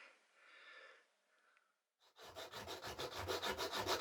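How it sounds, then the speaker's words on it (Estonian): Sandpaper is worked over wood for a schooner model, rapid rhythmic rubbing strokes close by after a quieter opening with faint scratching and a short pause. "Töötamine liivapaberiga."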